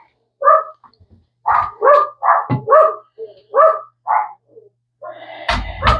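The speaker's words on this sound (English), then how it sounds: "there's a neighbor walking a dog, so the boys are going to be barking." Several dogs bark loudly and close by, reacting to a neighbor passing with a dog outside, the barks coming in irregular bursts with a brief yip and a sharp clatter at the end.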